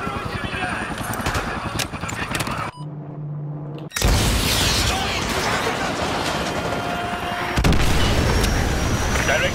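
Missile strikes and explosions in the Call of Duty Modern Warfare game, heavy booms and rumbling blasts layered with gunfire and battle noise, a brief lull before louder detonations resume, with voices talking over the combat.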